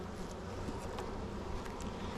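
Honey bees buzz inside an open beehive during a November apiary inspection, a faint, continuous droning hum with no voices over it.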